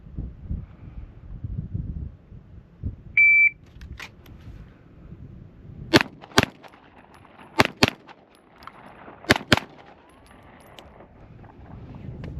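Pistol shots on an outdoor range during a Bill Drill practice with transfers: six sharp cracks in three quick pairs, each pair spaced a couple of seconds apart, after a short timer beep, over wind noise.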